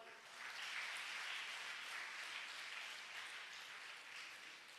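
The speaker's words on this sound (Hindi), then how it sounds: "ठोको ताली।" A church congregation claps steadily through the whole stretch, a dense wash of many hands at even loudness, with faint voices mixed in underneath.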